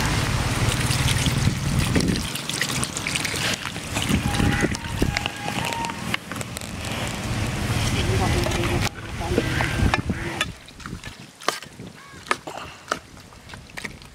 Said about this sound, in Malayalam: നീ ഇതിനകത്ത് വെള്ളം ഒഴിച്ച് നമുക്കൊന്ന് വേവിക്കണം.